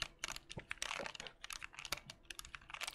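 Fingers type on a 60% computer keyboard, producing a rapid, close, irregular run of crisp key clicks with no voices.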